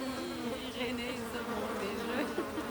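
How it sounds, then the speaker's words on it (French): Flies buzz persistently around someone outdoors, a steady droning hum close by with shifting pitch, continuous throughout with no talk. "Ouais, les mouches qui me tournent autour."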